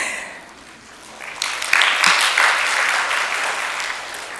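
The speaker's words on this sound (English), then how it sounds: "You can clap." Audience applause during a conversation event on film and theater costume design, starting faint and swelling after about a second into sustained steady clapping from a sizeable crowd, with no speech over it.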